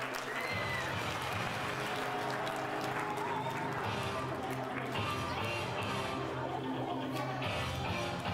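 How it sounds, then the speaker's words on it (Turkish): A crowd at a children's national sports championship applauds continuously, a steady wash of clapping with general crowd noise and voices mixed in. "Tekrar sporcularımıza büyük bir alkış alabilir miyim?"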